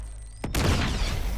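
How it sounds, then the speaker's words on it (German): A grenade goes off in the video game Uncharted 2: a sudden, loud blast breaks a quiet backdrop, then a heavy rumbling tail rolls on for about a second. "Komm, wir werfen eine Granate."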